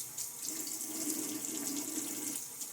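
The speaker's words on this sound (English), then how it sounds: "A little water on my face now." Tap water runs steadily into a sink and is splashed onto the face during a wet shave. The flow is close and continuous, with soft splashing and no speech.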